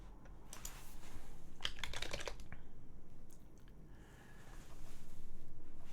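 Keys clatter on a computer keyboard in short bursts of quick taps, fairly faint and close, with pauses between runs of typing and no voices.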